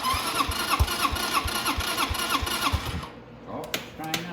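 A 250cc motorcycle that has sat unused for five or six months cranks with a rapid, rhythmic turning-over chug, then sputters and briefly catches into rough firing as the cranking stops, close and loud.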